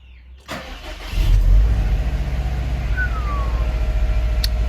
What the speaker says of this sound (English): I'll turn the car on and I'll try it.